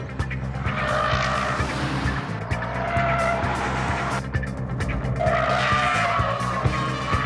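Subaru rally car roaring past on a loose-surface stage, engine note steady and loud while tires skid and scrabble continuously, with the sound swelling and easing as it slides wide.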